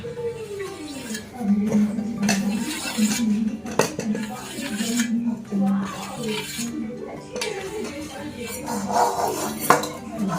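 A knife cuts and scores rolled khandvi on a plate, giving repeated light metallic clinks and scrapes against the dish while a voice talks throughout.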